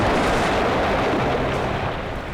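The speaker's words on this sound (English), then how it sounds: "But thankfully, to assist us, the artillery started landing." Artillery shells land in the WWII game Combat Mission: Beyond Overlord, a loud, continuous rumbling barrage of overlapping blasts that fades slightly toward the end, with no talking.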